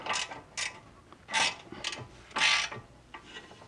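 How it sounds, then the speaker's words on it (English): A wrench ratchets on a bolt of a BMW E46 front lower control arm during a DIY suspension job: short metallic clicking strokes in uneven bursts, close and fairly quiet, with no talking. "let's get this bolt on here."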